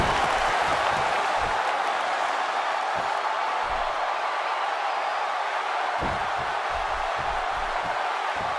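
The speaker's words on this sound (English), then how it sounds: "by the sound of this crowd, I think they're getting what they wanted" A video-game wrestling crowd in WWE 2K16 roars and applauds steadily through a Jack Swagger versus Jean-Claude Van Damme match, a dense, continuous wash of arena noise with a few low thumps underneath.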